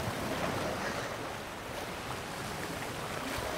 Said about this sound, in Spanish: Las olas acarician la fina arena de las playas de Tofta.